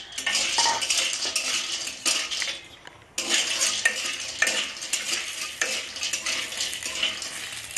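Lentil dumplings (bori) frying in mustard oil: soft sizzling under repeated scraping and clinking of a spatula stirring in the pan, fairly quiet and continuous with a short lull midway.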